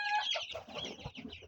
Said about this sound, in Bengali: এটি হচ্ছে যে দেশি মুরগি।